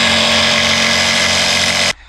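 A power saw fitted with a fine-toothed blade cuts through a panel for a camper van build, a loud, steady whine running almost two seconds before stopping abruptly, with no talking.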